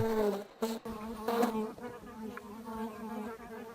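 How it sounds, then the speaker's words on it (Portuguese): A sand wasp flies back to its burrow in soft soil, its close buzzing wingbeat droning in a steady hum with slight pitch wavers. "uma vespa das areias regressa à sua toca"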